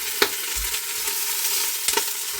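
Duck sizzling as it roasts in a pan, a steady frying hiss with occasional stirring or scraping knocks, close and fairly loud.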